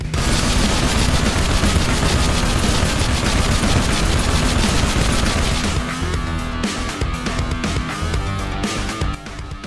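Spiker T25C fire in Halo Reach firefight: loud, dense automatic spike bursts stream without a break, then thin slightly into more distinct repeated shots near the end, with no speech.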